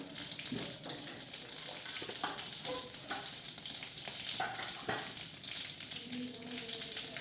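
Garlic paste frying in hot oil with cumin in a pan while being stirred, giving a steady close sizzle with scraping stirs and a brief louder burst partway through.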